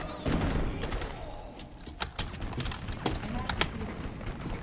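Machine gun fire in the video game Crysis Warhead rattles in quick, dense bursts, with sharper individual shots later on, loud and close, while a voice speaks Turkish over the shooting.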